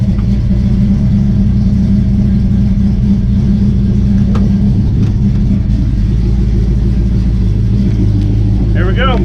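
A 1967 Chevy C10 truck's engine runs steadily with a deep low rumble while driving, loud and continuous throughout, with a rising whine near the end.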